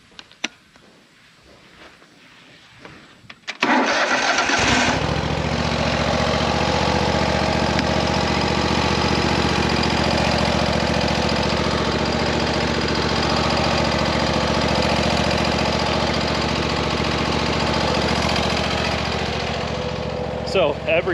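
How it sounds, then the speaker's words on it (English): A riding lawn mower that needs a jump box to start cranks after a short quiet lead-in, then its engine catches and runs loud and steady, close by, for the rest of the clip. "every time we turn that mower off, we've got to use a jump box to start it"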